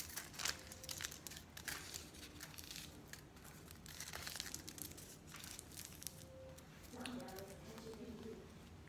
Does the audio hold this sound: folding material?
yes